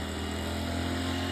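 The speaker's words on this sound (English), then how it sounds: "the noise you can hear there is a wee man blowing the leaves" A leaf blower runs outdoors near a castle in County Louth, giving a steady, continuous engine drone with a low hum that holds at an even loudness throughout, with no voices over it.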